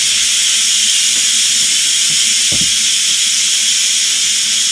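An Instant Pot releasing steam after cooking cabbage, a loud continuous hiss of venting pressure, steady throughout with a few faint knocks and clicks underneath.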